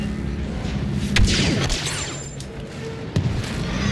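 Shotgun blasts in Star Wars Battlefront 2: two loud, sharp booms about two seconds apart, each with a short crackling tail, over busy battle noise.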